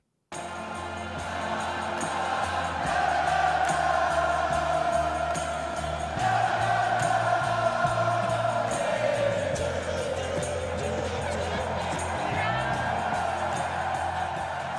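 A huge English football crowd in Miami roars a drawn-out, tuneful mass chant after the final whistle, a dense wall of voices that swells and carries on without a break.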